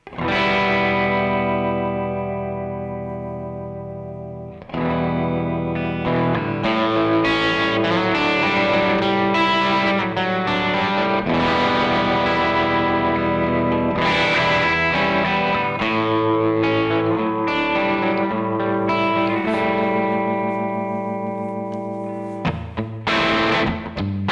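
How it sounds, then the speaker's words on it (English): Distorted electric guitar chords through a Kemper Profiler ring out with a heavy, washy reverb tail, sustained notes blurring together, loud and continuous with a brief pause near the start. "And the reverb is louder now. Yeah, it's really wet."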